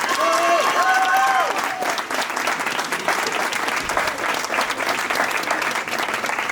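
Applause fills the hall at a student talent contest at URCA, a dense, steady clapping from the audience that carries on throughout after a brief musical tail at the start.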